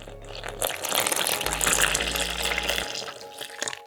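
Water is poured into a stand mixer bowl holding Manitoba flour and dried yeast, a steady close gushing stream lasting a few seconds that tapers off at the end, heard alone.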